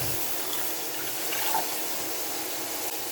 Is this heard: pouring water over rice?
yes